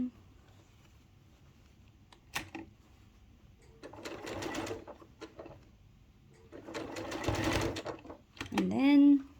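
A sewing machine stitches a reusable bag in short bursts, first a brief run, then a back stitch, then a longer pass along the edge, close and moderately loud between quiet pauses.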